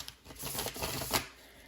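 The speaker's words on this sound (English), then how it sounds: "Let me get a good shuffle." Quick riffling of a deck of tarot cards being shuffled, a dense papery flutter lasting under two seconds, close and fairly loud with no talking.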